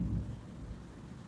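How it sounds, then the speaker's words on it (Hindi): Distant thunder rumbles low and faint during rain, a soft continuous roll with no voices. "ये तो बारिश हो रहा प्रभु, तो एकदम आसमान में बादल पूरा गरज रहा है।"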